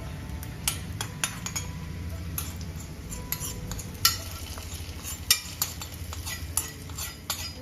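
Cashew nuts fry in a pan of oil for a chicken stew, giving a steady low sizzle with scattered utensil clinks and scrapes against the pan.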